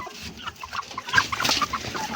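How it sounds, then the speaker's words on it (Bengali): Australorp chickens coming out of their coop, giving short soft clucks and murmurs in a brief close burst over light background noise, with no clear talking. "আমার অস্ট্রেলিয়া মুরগিগুলো সব বেরিয়ে আসছে"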